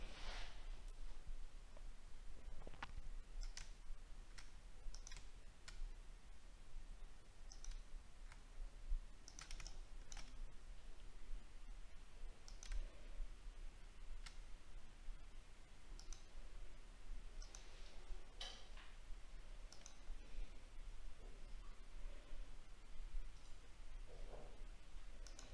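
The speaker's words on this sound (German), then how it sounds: "Also nochmal Shift klicken," Quick computer mouse clicks with the Shift key held sound during Photoshop image rendering work, a faint scattered series of light taps over low room hiss, with no talk.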